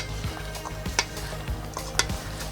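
Sweet potato salad being tossed and stirred in a bowl, with soft repeated scrapes and light clinks every half second or so, fairly quiet and with no talking.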